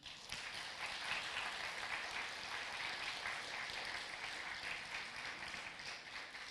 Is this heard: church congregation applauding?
yes